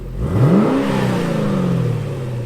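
An LS3 V8 engine in a wagon with a Magnaflow xMod exhaust in quiet mode revs once, climbing in pitch and then settling into a steady, muffled idle drone, loud and close.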